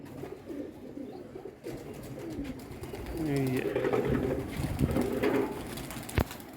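Pigeons leave their cage on a rooftop loft, cooing and fluttering nearby while someone speaks in the background.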